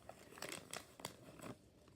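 Paper folded by hand while making a small paper boat, a few short crinkling rustles and soft creases spaced about a quarter second apart, close and quiet with no talking.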